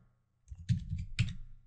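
Two quick clicks of a computer keyboard as a password is typed, close and fairly quiet, with soft low thumps under each keystroke and no talking.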